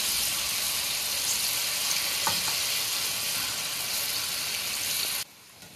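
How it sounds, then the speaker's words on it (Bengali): Gram-flour (besan) batter fries in hot oil with a loud, dense, continuous close-up sizzle that holds steady before cutting off abruptly near the end, with no talking. "তেল গরম হয়ে গেছে, এবার বেসনটা ভেজে নিই।"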